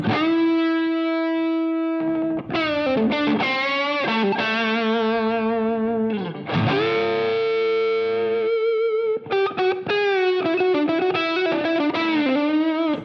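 A thick, sustained electric guitar tone with distortion from a Les Paul neck humbucker pickup plays a string of held notes and chords, loud and upfront.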